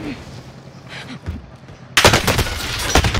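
Rapid video game gunfire breaks out in a loud, close burst of repeated shots after a quieter stretch, with someone talking briefly beforehand.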